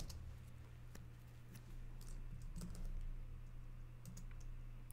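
Computer keyboard typing, faint scattered key clicks in short bursts over a quiet steady hum, no talking.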